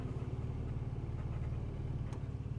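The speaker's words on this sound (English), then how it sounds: "And it idles quite nicely for a new engine." Freshly rebuilt engine of a 1960 Super Sprite idling, a steady low rhythmic burble close by, running evenly for nearly three seconds without talk.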